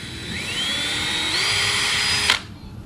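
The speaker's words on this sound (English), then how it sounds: "pre-drill that one" A power drill pre-drills a screw hole in a Larson storm door on a greenhouse, running steadily with its whine rising in pitch before it stops sharply, close and alone.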